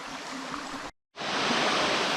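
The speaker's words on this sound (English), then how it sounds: "I found my first cascade." Steady broadband rush of creek water spilling over a cascade in an open creek bowl between steep sides, loud and close, briefly cutting out before the continuous flow resumes.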